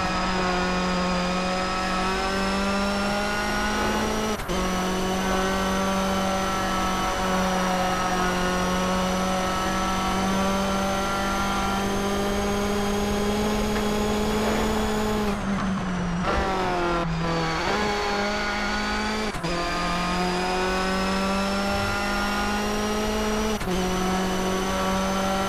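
A Mitsubishi Lancer Evolution rally car engine in the PS2 racing game Toca Race Driver 3 holds a high, steady whine, with sharp gear shifts and brief dips in revs, loud and continuous.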